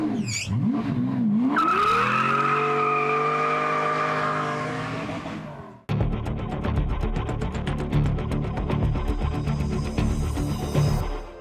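A high-revving Pagani Zonda engine wails through rising and falling gear changes, then cuts to a different scene with a loud, crackling, burbling exhaust nearby.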